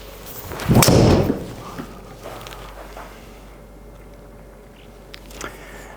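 A single crisp golf tee shot struck with a driver on a Bethpage Black hole, one sharp impact followed by faint outdoor ambience and a few soft distant sounds.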